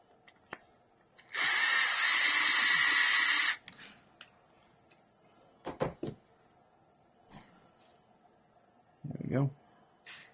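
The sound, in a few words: drill enlarging a hole for magnets in a model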